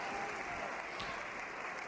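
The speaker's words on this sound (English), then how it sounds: "Listen to the roar." A home crowd at a gymnastics championship roars and applauds as a steady, far-off wash of noise, faint and even throughout.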